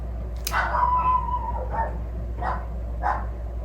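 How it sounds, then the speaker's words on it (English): A dog barks in the background, a few separated barks and yelps at a moderate distance over a steady low hum, with no one talking. "there's that barking again."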